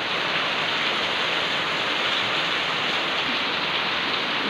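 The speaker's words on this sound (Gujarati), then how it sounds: "ફૂલ વરસાદ વરસે છે" Heavy rain pours down outdoors on a dairy farm where cows are tied up in the open, a loud, dense and unbroken hiss throughout with no voices.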